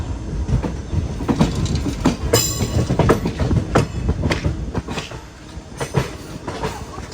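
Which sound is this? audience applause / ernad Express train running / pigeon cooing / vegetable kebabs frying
ernad Express train running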